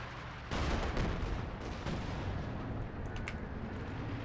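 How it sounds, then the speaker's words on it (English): Artillery fire in a video game rumbles as a heavy, continuous barrage that starts with a deep boom, followed by dull muffled impacts and thuds. "it's under artillery fire, don't want to risk it"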